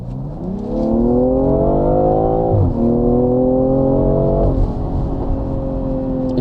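A BMW M340i engine revs, a loud, close, droning exhaust tone that climbs, dips sharply mid-clip, climbs again and then settles, heard alone without speech.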